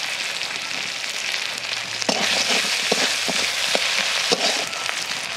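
Ginger paste, chopped tomato and ground spices sautéing in a pan for a fish-head moong dal, a steady close sizzle with scattered stirring scrapes and clicks, no voices.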